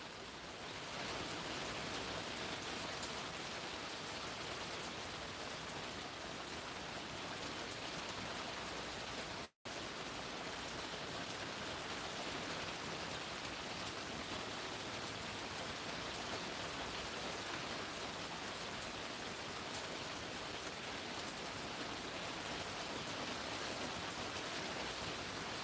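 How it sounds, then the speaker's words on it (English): Steady rain falls at a desert homestead, a dense, even hiss that runs unbroken and loud with no talk over it, apart from a single split-second dropout. "just sitting out here watching and listening to the rain"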